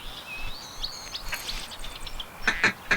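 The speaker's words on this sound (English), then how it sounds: "Hey, there's some ducks coming in." Bird calls in the Duck Dynasty video game: thin chirps and whistles sliding across the clip, then a cluster of sharper, louder call bursts near the end, with no talk.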